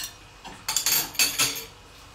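A clean plate set down for plating fish and chips, heard as a few close, sharp ceramic clinks and knocks in a quick cluster, with no talk.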